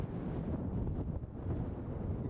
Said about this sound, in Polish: A wiatr od morza wieje zimny